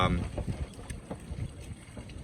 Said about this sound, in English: this is really windy out here